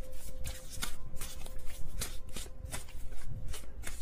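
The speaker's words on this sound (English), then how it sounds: "if I want them all to be upright, I have to shuffle a certain way" Tarot cards are shuffled by hand in a steady run of soft riffling slaps and flicks, close and continuous, with a faint hum behind them and no talking.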